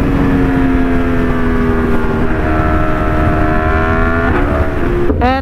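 Engine drone from a ride through heavy road traffic in Tagaytay, Philippines, a loud continuous motor whine with slowly shifting pitch, close and steady, ending in a brief rising rev, no talking.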